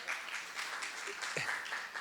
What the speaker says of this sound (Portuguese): Palmas para o Daniel.